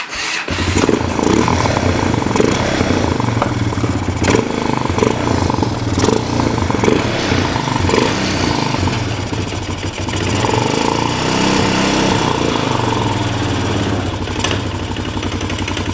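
A 1998 Honda Recon 250 ATV engine runs rough and loud for the whole stretch, a close, uneven, rattling idle with pulsing bursts that points to a possible timing chain fault, with no talking over it.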